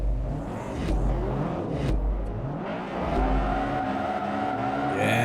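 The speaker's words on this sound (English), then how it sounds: "bounce off the rev limiter" Forza Motorsport 3 race car engine revving hard and bouncing off the rev limiter in an amateur front-wheel-drive race, a loud continuous engine roar with repeated stuttering cutoffs and brief tire squeal.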